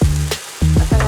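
Shrimp paste drops into a hot pan of beef and tomatoes, setting off loud, close sizzling and frying with brief stirring scrapes, interrupted by a short pause.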